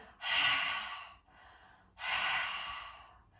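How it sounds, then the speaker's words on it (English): Two long, soft open-mouthed exhalations, like misting up a mirror, each a breathy hiss rising then fading, close and quiet, with a pause between. "An easy way to get into it is by pretending you're misting up a mirror with your mouth."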